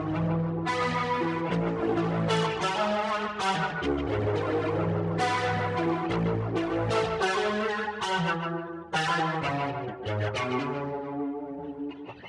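Electric guitar run through the Tascam Porter Studio plugin with boosted drive plays dense, saturated chords with sustained, gritty tone, strummed in repeated phrases across about twelve seconds with no voices.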